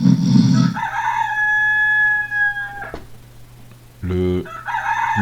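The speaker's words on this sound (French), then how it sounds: "Le coq qui interrompt la personne en train de dormir." A rooster crows one long, loud, close cock-a-doodle-doo, then after a short pause a second crowing call begins.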